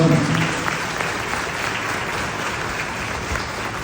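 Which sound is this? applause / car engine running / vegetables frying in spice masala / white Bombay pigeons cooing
applause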